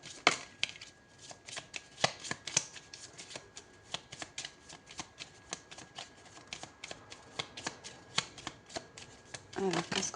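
Tarot cards are shuffled by hand in a long run of quick, papery riffles and flicks, up close and fairly soft, with a few firmer slaps as cards are laid down near the end.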